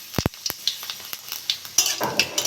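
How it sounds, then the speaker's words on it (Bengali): Dried red chillies and five-spice seeds frying in hot mustard oil in a kadai crackle and spit in short bursts. Sharp pops come near the start, and a denser sizzle follows near the end. "ফোড়ন শুকনো লঙ্কাটা ভাজা হয়ে গেছে"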